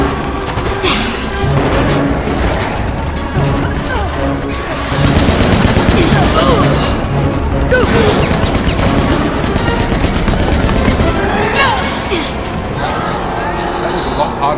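Bursts of automatic gunfire and rapid shots from the video game Resident Evil: Operation Raccoon City, loud and sustained across the whole stretch, with crashing impacts and game voices mixed in.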